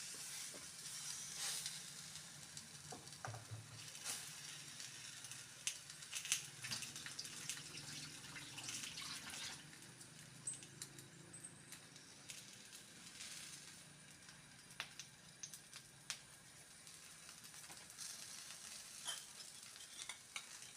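Sweet cucumber dosa batter spread thick on a hot griddle, hissing and sizzling with scattered sharp crackles and scraping stirs, close but fairly quiet, no talking.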